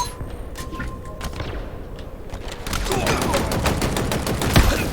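Rapid gunfire from a gun in a video game, a dense run of sharp shots that gets louder and busier in the second half.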